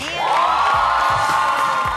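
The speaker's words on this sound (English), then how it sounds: "Big round of applause for the beautiful and talented Roxy Diaz." An audience cheers and whoops with applause for a performer at a Disney Dreamers Academy event, a loud sustained crowd roar with one high shout standing out.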